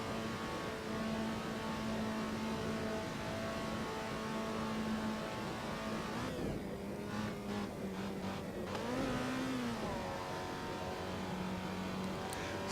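Alfa Romeo 125 engine in Assetto Corsa at the Nordschleife, a steady droning hum that dips and surges through a few gear shifts near the middle, with the engine note rising again afterward.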